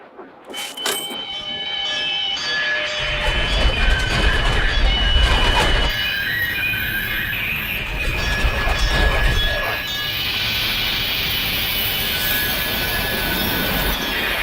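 A passenger train runs along the tracks in a steady, close rumble, with metallic squeals and higher ringing tones over the whole stretch.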